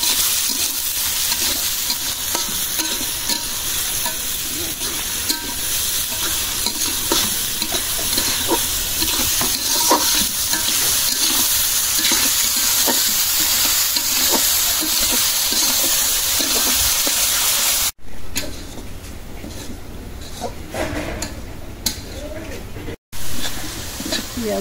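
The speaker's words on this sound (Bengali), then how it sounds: "একদম বেরেস্তার মতো লাল লাল করে ভেজে নিলাম" Chopped onions sizzle and crackle in hot oil as they are fried to a reddish-brown, crisp birista, with frequent stirring scrapes; the frying stays loud and close throughout, briefly cutting out twice near the end.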